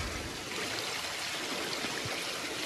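Clear water from a jungle stream near a waterfall runs and trickles steadily into a bottle held in the flow, making a continuous, faint rushing sound with no pauses.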